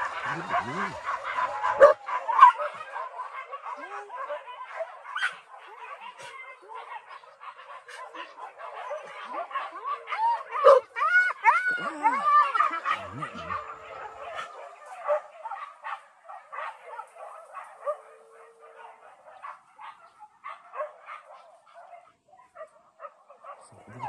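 Hunting dogs on a wild boar chase bark, yip and whimper in scattered, excited bursts across the whole stretch, with a voice talking at intervals.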